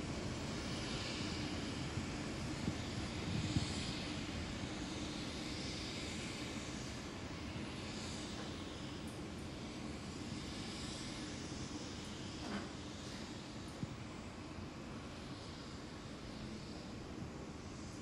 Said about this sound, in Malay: Pesawat Hercules C-130 Tentera Udara Diraja Malaysia berada di kompleks Bunga Raya